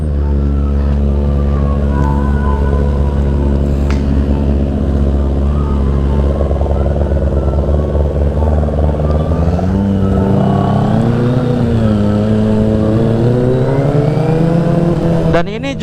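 A Kawasaki ZX-25RR motorcycle with an underbelly exhaust idles loudly and close, with a steady humming drone, then revs up and down in rising and falling sweeps toward the end.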